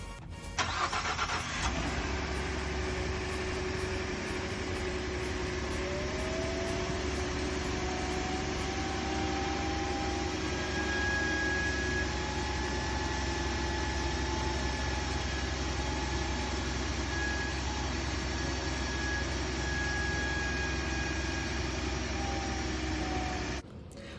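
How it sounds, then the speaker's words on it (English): A failing turbo bearing on a 2020 Ford F150 with the 3.5L EcoBoost makes a steady, loud, continuous droning whine with faint rising tonal sweeps, running unbroken for over twenty seconds without talk. "let me tell you what the turbo bearing sounded like for the failure"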